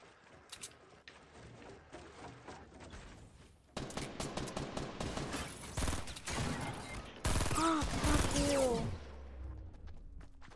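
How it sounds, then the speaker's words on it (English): Gunfire in the Fortnite video game crackles in rapid bursts, starting faint and then growing louder and denser, with game effect sounds mixed in. People talk faintly during the firing. "Guy's shooting at you."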